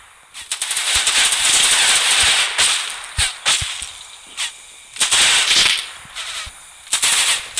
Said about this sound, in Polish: Wybuchy!